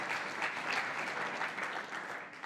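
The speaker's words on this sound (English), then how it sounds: "Can we get a clap for that, please?" People in the audience at a fintech panel clap together in a steady, fairly quiet round of applause that holds evenly for a couple of seconds with no voices on top.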